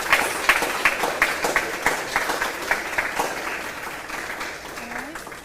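An audience at a 4-H fashion revue applauds steadily, many hands clapping together in a dense wash that slowly fades toward the end.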